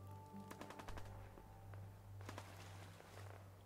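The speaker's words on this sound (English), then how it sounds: "Walking here, some gunfire." Quick bursts of distant gunfire in the video game Fallout 4 crackle in short rapid volleys over a low electronic hum, faint and repeating a few times.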